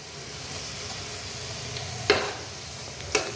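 Red potato gulab jamun (lalmohan) fry in hot oil with a soft, continuous bubbling sizzle, broken by two sharp clinks of a spoon stirring the pan.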